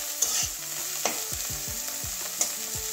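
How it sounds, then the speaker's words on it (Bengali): Sliced bitter gourd fries in a pan with mustard paste and turmeric, a steady sizzle broken by several sharp scraping strokes of a spatula stirring against the pan. "এবারে আর একটুখানি ভেজে নেব, তাহলে আর তিতা লাগবে না।"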